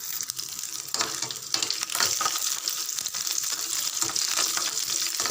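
Dried red chillies, peeled garlic cloves and curry leaves fry in hot oil in a pan, a continuous close sizzle with occasional stirring scrapes and pops.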